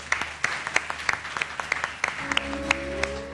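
A studio audience on a Ramadan television show claps to welcome a guest, with scattered, distinct handclaps, and a sustained musical tone enters toward the end.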